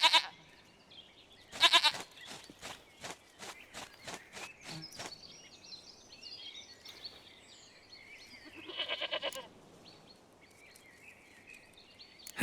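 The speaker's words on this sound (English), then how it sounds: "Goat of mine, dearest, sweetest goat." Goat bleats from The Witcher 3: Wild Hunt, a few short calls standing out against quiet game ambience, with a longer, louder bleat near the middle and small scattered clicks between.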